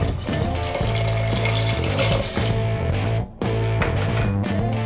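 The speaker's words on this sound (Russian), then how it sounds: "Доливаю воды." Water runs steadily into a pot holding soaked mushrooms for a soup, a loud, close, continuous pour with a brief break near the end.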